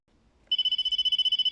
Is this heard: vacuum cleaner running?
no